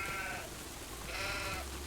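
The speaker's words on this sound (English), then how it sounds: "next to those sheep" Sheep bleat in Farming Simulator 25 on a rainy farm, two drawn-out bleats, one near the start and another after a short gap, over a steady background of in-game ambience.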